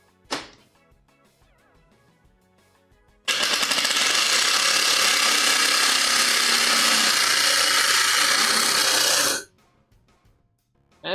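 A drill drives screws into wood in a workshop, running as one loud, continuous strained whir for about six seconds, with short mechanical clicks before and after it.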